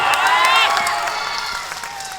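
A crowd at a farmers' rally, a Kisan Mahapanchayat in Sudamda, applauds and cheers in a dense, steady wash of noise. A raised voice rings out over the applause, which fades slightly toward the end.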